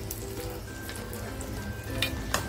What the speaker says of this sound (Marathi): तेल टाकते, हिंग टाकते।